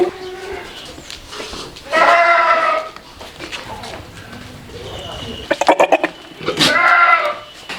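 Goats bleat on a he-goat farm in Balitapara village, Kaliganj, Jhenaidah, Bangladesh. Two loud, drawn-out calls stand out over ongoing voices and farm background.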